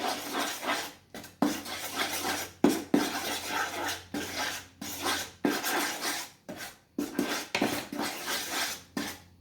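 A utensil scrapes and stirs a thick creamy white sauce for honey walnut shrimp in a bowl, in repeated rhythmic strokes broken by short pauses, close and fairly quiet with no talking.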